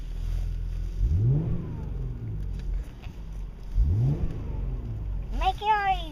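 A car engine revs up twice as the gas pedal is pressed, each rise swelling from a low idle rumble and falling back, with a brief higher whine near the end; voices talk over it.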